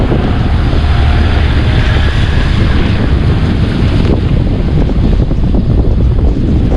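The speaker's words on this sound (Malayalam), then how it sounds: "ഭയങ്കര കാറ്റത്ത് കുട പറക്കുക." A cyclone lashes the seashore at Thottappally in Kerala, wind and rain roaring loudly and continuously as the surf churns, with the microphone heavily buffeted throughout and no one speaking.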